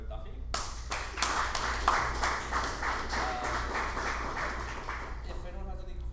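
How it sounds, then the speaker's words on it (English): Audience applause follows a presentation on a fast Scrabble program: clapping starts abruptly, swells into a steady patter, then thins out near the end as people start speaking. "Let's give another round of applause for Duffy."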